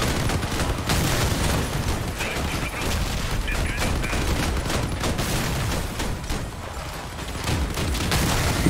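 An armored vehicle in the online combat game Crossout fires heavy weapons: dense, continuous gunfire and booming blasts roar loud and steady throughout, with no pause.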